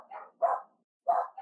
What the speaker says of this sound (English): Them dogs going crazy, bro